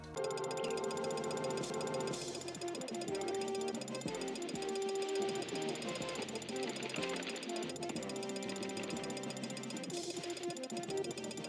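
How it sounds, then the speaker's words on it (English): Rapid repeated clicking from the power-up timer in Gex 3: Deep Cover Gecko, several ticks per second over layered electronic tones, steady and moderately loud. "The clicking sound, or whatever sound it is, it's more than once per second."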